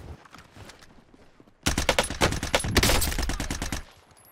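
Rapid bursts of gunfire ring out in a shooter video game, a dense volley of closely spaced automatic shots lasting about two seconds after a quiet lead-in, loud and close against faint background.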